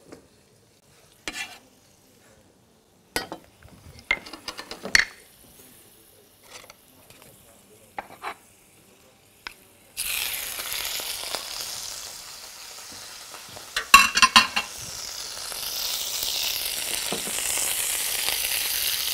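Tomatoes sizzle and fry in a pan for a country-style salad with smoked herring, starting with scattered stirring clatter and then settling into a steady, bright sizzling hiss close by, without talking.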